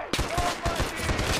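Rapid gunfire bursts in Far Cry 4 multiplayer, a quick series of close, sharp shots in uneven rhythm over a short stretch.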